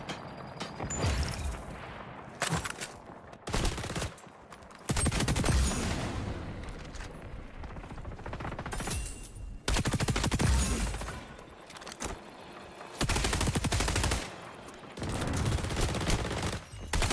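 Gunfire in the XDefiant video game, with a shotgun among the weapons, comes as loud repeated bursts and volleys separated by short quiet gaps.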